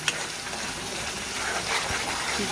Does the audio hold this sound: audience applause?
no